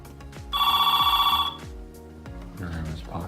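Phone ringing with a bright electronic trill for about a second, heard between heavy low thuds and clatter, with no voices over the ring itself.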